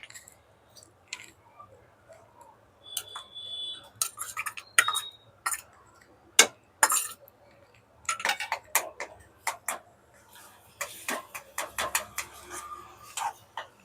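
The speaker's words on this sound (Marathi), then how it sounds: "याच्यामध्येच अद्रक लसूण आपलं परतून घेणार आहे" Ginger and garlic are sautéed in oil for a prawn curry, heard as scattered clinks and taps of a utensil against the pan with irregular scraping stirs, close by and alone, and a faint sizzle underneath.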